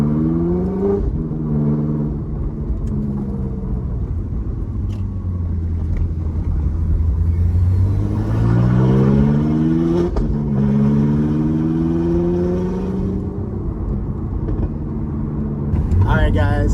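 A Ferrari F430 engine revs repeatedly while the car is driven, its pitch climbing and falling through several loud acceleration pulls with a deep rumble beneath, up close from inside the car.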